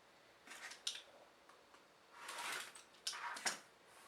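Scissors or a rotary cutter slice through quilting fabric in a few quiet, close snips and crisp swishes. Short bursts are separated by pauses, with a longer cutting stroke in the middle, and no voices.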